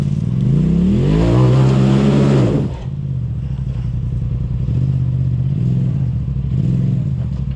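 A dirt bike engine roars and revs hard while climbing a dirt hill, then drops to a steady, rumbling idle with small throttle blips, close and loud throughout.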